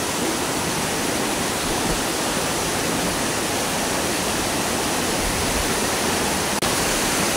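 Lanzones Falls roars in a constant, even wash of falling water, heard up close and loud with no talking throughout.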